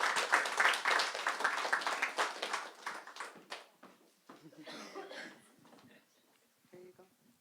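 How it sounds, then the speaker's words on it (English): Audience clapping at a YMCA Cork celebration event on a main stage, a dense round of applause with some chuckling that gradually thins out and fades, with a few scattered claps at the end. "we'll have a round of applause for Estella"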